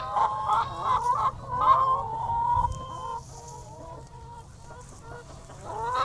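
Egg-laying hens cluck nearby in a grassy yard, several overlapping calls and squawks that are louder early on and then settle to quieter clucking.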